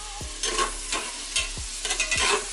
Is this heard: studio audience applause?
no